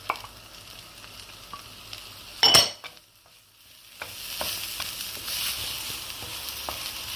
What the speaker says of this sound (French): Maintenant, je fais revenir mes oignons.